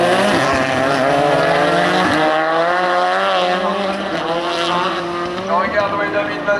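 Rallycross Supercars at Lohéac in 2025 qualifying race down the straight, a loud, sustained engine roar with shifting pitch that rises and falls as cars pass, heard under excited French commentary.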